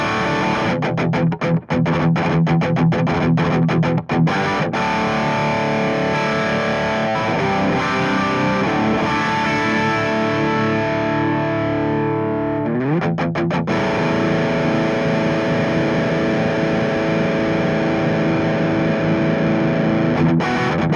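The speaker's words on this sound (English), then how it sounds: "I'm gonna turn on the reverb for a short while." A sustained, heavily distorted electric guitar through a Friedman Runt 20 EL84 tube head with reverb, rich harmonics and a washy reverb tail, played continuously and loud, with a brief change in tone midway.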